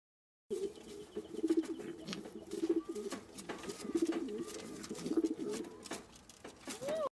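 Pigeons coo in low, rolling repeated phrases, about five regular coos over a steady chorus of bird noise, fairly close and continuous.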